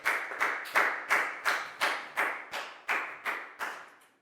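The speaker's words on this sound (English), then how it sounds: "a big round of applause for Pak Bung, please, guys" A class of Year 4 students claps in unison during an English lesson, about eleven sharp, evenly spaced rhythmic claps, loud and close with no talking.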